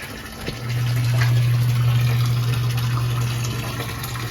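A sump pump starts up and runs with a steady low hum as water churns and flows continuously nearby.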